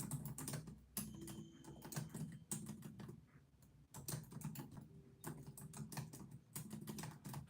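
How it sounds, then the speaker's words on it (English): Quick, irregular typing on a computer keyboard, close and fairly quiet. Bursts of key clicks stop for brief pauses and start again, with no voices. "I'm going to type that in"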